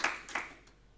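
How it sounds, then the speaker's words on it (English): A few scattered hand claps at a journalism awards presentation, two or three quick faint claps that fade into quiet without building into full applause. "Let's give them a round of applause."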